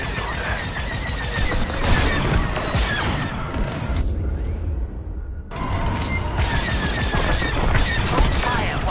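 Laser cannon fire from a starfighter striking station turrets in the Star Wars: Squadrons space combat game, a dense, loud barrage of crackling shots and impacts that breaks off briefly midway, then resumes just as heavily.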